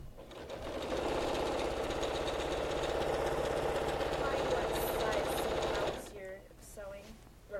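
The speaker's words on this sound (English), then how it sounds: "I'm sewing a little more, like a generous 1/8 away from the edge" Sewing machine stitching around the edge of a baby blanket, a steady close mechanical whir for about six seconds that then stops, followed by a voice speaking.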